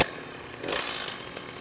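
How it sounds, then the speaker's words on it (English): A chainsaw with its bar locked, used for milling a wood burl, sputters briefly as it is pull-started, giving a short close burst of rough engine noise within a quiet interval. "Now in this next clip, I'm going to start my chainsaw up."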